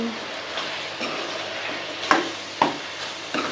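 Chili powder frying in oil with a spoon stirring through it, a soft steady sizzle under a few sharp scrapes and clicks of the utensil against the pan, close and moderate in level.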